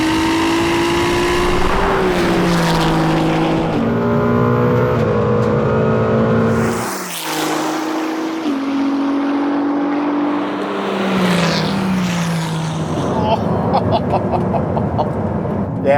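A Ferrari 296 GT3 race car accelerates hard in a drag race, its engine rising in pitch through several loud gear shifts. There is a brief break in the middle, then revving resumes with another rising sweep.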